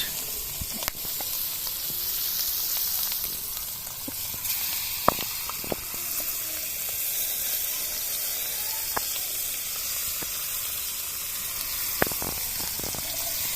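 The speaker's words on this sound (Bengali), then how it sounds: "এখন দেখেন দুই পিস মাছ ভাজবো খাওয়ার জন্য ছোট আর কি আপনার ঝাটকা ইলিশ" Small pieces of young hilsa fish fry in oil outdoors on a cold winter afternoon, giving a steady close sizzle with occasional sharp pops and crackles.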